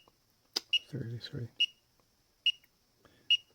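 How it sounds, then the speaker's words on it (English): A wrist temperature gun's over-temperature alarm sounds four short, clear electronic beeps at steady intervals, with a brief spoken word between the first beeps. "the reason it's beeping is I set it for, it has an alarm."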